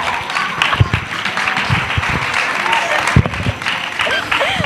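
A gala audience applauds in a loud, sustained burst of clapping that runs for several seconds, with voices and chatter mixed in.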